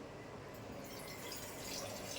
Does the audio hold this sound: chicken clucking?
no